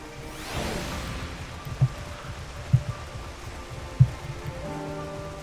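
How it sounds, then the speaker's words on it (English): Rain falls in the Final Fantasy XIV game world as a soft, steady hiss of patter, broken by three dull low thumps spaced about a second apart. "Doing this in the rain."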